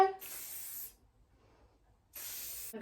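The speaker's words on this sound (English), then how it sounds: "I'm just going to spray with some hairspray" Hairspray from an aerosol can misted onto curled beach-wave hair in two separate hissing bursts, each lasting under a second with a short quiet gap between, close and fairly soft.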